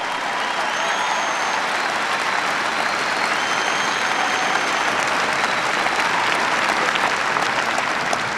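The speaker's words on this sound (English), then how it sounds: "we can all clap about that" Audience applause at a political speech by Barack Obama: dense, steady clapping from a large crowd that holds at an even, fairly loud level for about eight seconds with no talking over it.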